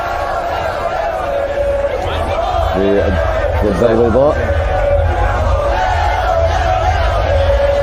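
Moroccan football fans celebrate a World Cup win over Belgium with a broad, steady crowd roar and scattered shouts and whoops, while a commentator speaks over the noise.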